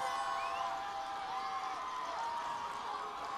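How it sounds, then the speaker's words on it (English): Crowd of fans cheering at a championship football game, a dense, steady roar of many voices at a distance, with whistles and shouts rising above it and no clear individual speech. "Fans begin to cheer"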